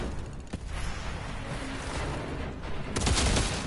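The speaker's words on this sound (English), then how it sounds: "This happened through a goddamn grenade!" Grenade explosion in the video game Outstriders, heard among busy combat noise: a sharp blast near the start, then a louder, deeper boom near the end that rumbles on, with no speech.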